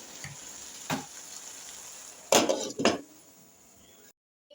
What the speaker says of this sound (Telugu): ఇవంతా మగ్గే వరకు మగ్గించుకుందాం మూత పెట్టేసుకొని